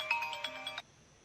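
An electronic phone ringtone signals an incoming call, a bright rhythmic run of repeating tones lasting under a second before cutting off into near silence.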